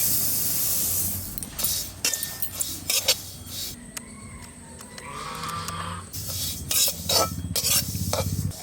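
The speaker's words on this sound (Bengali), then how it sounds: "তিলটা এবার ভিজে নিতে হবে কড়াইতে।" Sesame seeds roasting in a kadai (wok) make a soft hiss with scraping and stirring noises in uneven bursts, close by, with a few faint higher tones in the middle.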